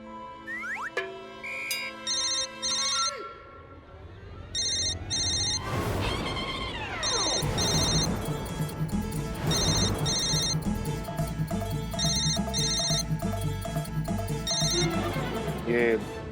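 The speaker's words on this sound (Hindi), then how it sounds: "आप जरा वो नंबर डायल कीजिए ना जिस नंबर से आपको फोन आया।" A mobile phone rings with a repeating electronic ringtone melody in a comedy TV scene, the tune sounding in regular bursts after a number is dialed, with brief whistling tones at the start and a voice speaking in between.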